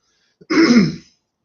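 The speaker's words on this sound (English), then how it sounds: "constantly clearing my throat" A single short, rough throat clearing, close and distinct against silence.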